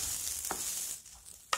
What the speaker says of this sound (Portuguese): E aqui a gente vai mexendo.